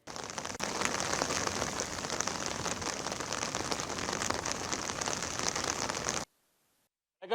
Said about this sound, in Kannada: ಮಳೆ ಮಳೆ ಮಳೆ.